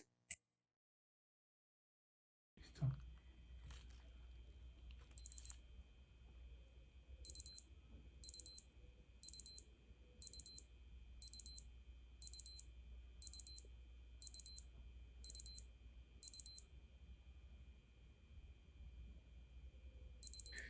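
A Casio G-Shock GBA-800 sounds its timer target alert: a single early chirp, then a run of about ten evenly spaced, sharp high beeps over a quiet low hum.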